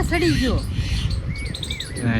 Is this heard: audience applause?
no